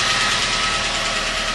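Mitsubishi Magna car engine running with no water in it on its last run, a loud, steady close idle drone with constant vibration and no voices.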